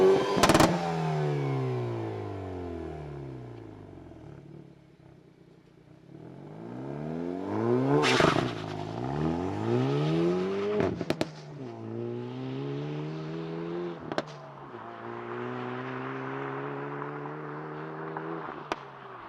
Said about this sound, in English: I'm going to show you a quick video of the car actually revving